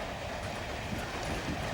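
A railway carriage rolling steadily along the rails, a continuous rumbling roar with faint rhythmic clatter, loud and close throughout with no voices.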